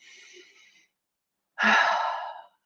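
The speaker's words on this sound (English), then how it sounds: "take a deep breath" A group takes a deep breath together: a quiet intake of air, a short pause, then a louder, drawn-out sighing exhale heard up close.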